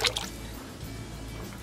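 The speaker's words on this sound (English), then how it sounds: "we're going to pour to the inside first with the red iron, and then I'm going to slowly pour it out" Red iron glaze is poured out of a thrown ceramic cup, giving a soft, steady liquid trickle with a brief drip at the start, heard alone.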